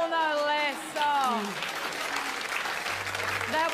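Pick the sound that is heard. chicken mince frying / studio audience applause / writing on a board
studio audience applause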